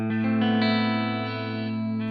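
A Schecter Blackjack C-1 ATX electric guitar on its bridge pickup rings out with a distorted crunch tone, one strummed chord held and sustaining loudly with a few fresh attacks, playing alone.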